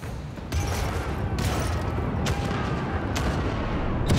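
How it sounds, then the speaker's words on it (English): Ship cannons in a naval video game fire a starboard broadside as several heavy booms, each a sharp burst with a rumbling tail, spaced unevenly across a few seconds over a constant low roar. "Fire the starboard cannons."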